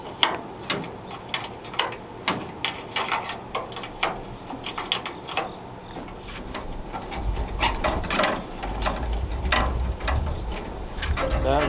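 Wrench working stubborn, rusted bolts on a 1936 Ford three-window coupe, sprayed with penetrating oil: a run of sharp metallic ratcheting clicks in uneven bursts, close by, with a low rumble building in the second half.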